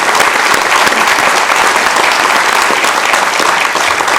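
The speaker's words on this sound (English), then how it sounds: "Let's round of applause for Hispanic Heritage Month and all our contributors here." Loud, continuous applause from the chamber audience at a Sacramento city council meeting honoring Hispanic Heritage Month and its contributors, dense clapping that stays even throughout.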